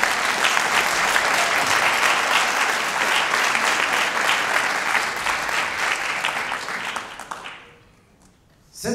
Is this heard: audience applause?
yes